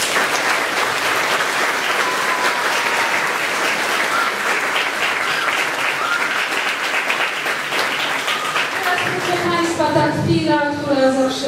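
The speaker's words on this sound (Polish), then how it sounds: "Wielkie brawo dla Kuberki." An audience at an end-of-summer arts academy theatre performance claps in sustained, dense applause, loud and continuous, with the clapping briefly swelling near the end.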